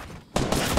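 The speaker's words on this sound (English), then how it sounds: "I'm being shot at." Gunfire from a Fortnite Battle Royale match erupts suddenly after a brief quiet moment, a loud, dense burst of rapid shots that fills the rest of the short moment.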